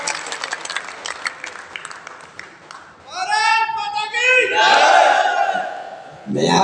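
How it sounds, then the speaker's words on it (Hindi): An audience at the Aligarh exhibition poetry gathering welcomes the poet Dr. Hariom Panwar with a swell of clapping and loud vocal cheering that follows someone speaking, fading briefly before another burst. "पूरा सदन एक बार हाथ उठा के ताली बजा के आमंत्रित करें डॉक्टर हरिओम।"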